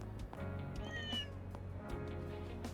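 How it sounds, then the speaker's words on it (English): A cat meows in the video game Trails through Daybreak 2: one clear, fairly close meow rises over steady game music and background sound effects. "Oh, chasing a cat."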